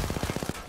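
Rapid automatic gunfire in Apex Legends, a quick burst of about eight shots in steady rhythm, loud and close, then cutting off.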